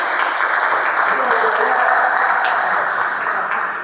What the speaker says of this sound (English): A big round of applause for Mahir, everyone.